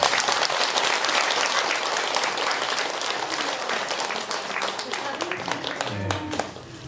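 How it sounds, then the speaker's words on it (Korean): A large audience at a Buddhist dharma lecture applauds, dense sustained clapping throughout that thins out near the end as a voice begins over it. "박수 한번 쳐주세요."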